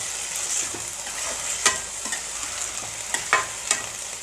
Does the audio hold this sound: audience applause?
no